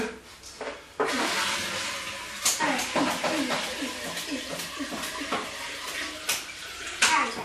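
A bucketful of dry feed is tipped out, its rustling, clattering pour running nearly continuously with scattered knocks and scrapes.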